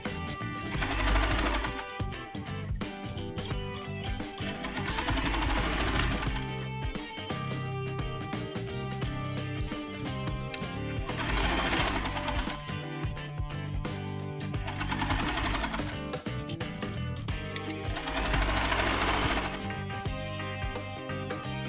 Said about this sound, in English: Sew this part and leave an opening about an inch here.